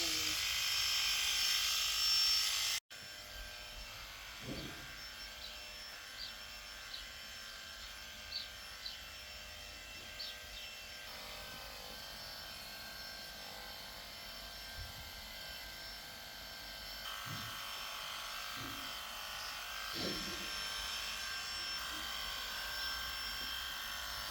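Electric clippers shave figures into an animal's fur, giving a faint, steady buzzing hum throughout with occasional soft knocks and rubbing sounds, quiet and close.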